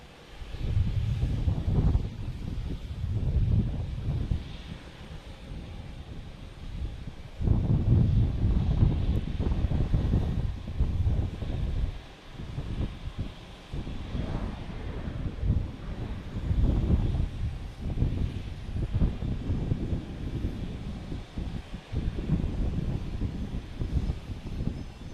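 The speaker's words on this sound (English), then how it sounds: "We have a Delta coming in, an A321 from Atlanta." A Delta Airbus A321 from Atlanta arriving at Boston Logan Airport, a rumbling jet engine roar swelling and fading in waves, heavily buffeted by gusty wind noise on the microphone, with no voices.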